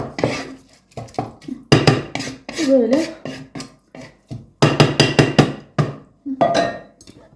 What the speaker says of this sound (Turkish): Lahanamı doğrayayım.